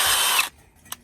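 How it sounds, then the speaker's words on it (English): A power drill bores a hole for mounting a vise, a loud, close whirring burst that cuts off after about half a second, followed by a brief quiet and a single short click. "So now we got a drill"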